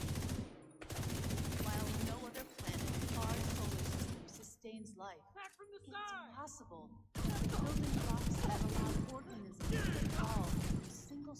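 Rapid bursts of automatic gunfire from The Division 2 shooter game, loud dense volleys in two long stretches broken by a quieter gap with scattered effects, and a voice talking partway through.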